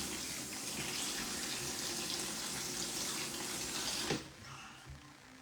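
Steady running tap water rinses a freshly cleaned lobster in a sink, a loud continuous gush that cuts off near the end and leaves a faint splash.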